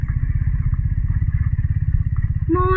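A heavily loaded motorcycle rides a rough road in Ladakh, its engine thrumming in a steady low pulse throughout, with rattles and clatter from the bumpy surface, and a brief higher engine tone rising near the end.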